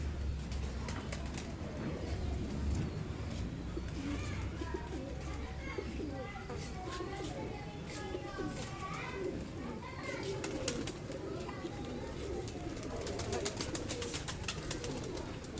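A caged breeding pair of Kamanger pigeons coo in soft repeated rolling calls that continue throughout, with steady background noise and indistinct voices nearby.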